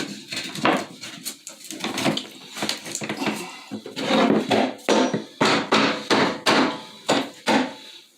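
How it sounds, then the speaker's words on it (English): A big hammer strikes repeatedly during a mobile home bathroom remodel with a cast iron tub, loud sharp impacts in irregular bursts, some quick clusters, close and with no talking. "big hammer for that job"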